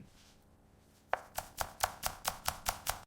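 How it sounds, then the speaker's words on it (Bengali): Onions and coriander leaves being chopped with a knife on a board: after a quiet start, about nine crisp, evenly spaced chops ring out close and loud, with no talking. "এইবার পেঁয়াজ আর ধনেপাতা কুচি কুচি করে কেটে নিন।"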